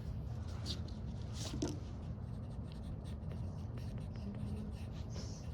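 A pen scratches across paper close by, with short strokes and taps in an uneven rhythm as a variance calculation is set up for a statistics problem, with no talk.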